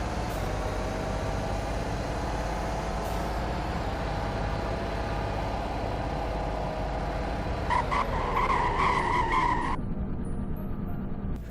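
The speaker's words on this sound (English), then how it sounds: "This is actually way better braking than I was expecting with this kind of truck." Truck braking hard in Roblox Greenville, a continuous engine drone and road roar giving way near the end to a loud squealing skid that cuts off abruptly into quiet, with no talking.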